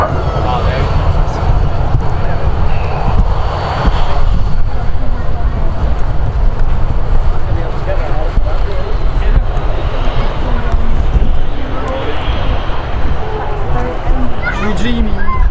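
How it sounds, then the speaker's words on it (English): An airliner landing on the active runway at Manchester Airport makes a broad, continuous jet roar heard from a spotting area nearby, with people talking steadily over it. "the aircraft will touch down on today's active runway"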